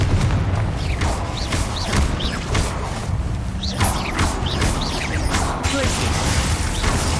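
Confringo blasting spell from the Hogwarts Legacy video game, repeated booming impacts and crashing bursts in a continuous loud stream of combat noise, with whooshes layered between hits.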